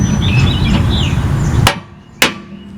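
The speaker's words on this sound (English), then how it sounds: "You don't want to hit the bolt, you want to hit the nut." A hammer strikes the nut on a bolt through a car's lower control arm, two sharp metallic hits about half a second apart, the second ringing out more cleanly over a quieter background after some low rumbling shop noise.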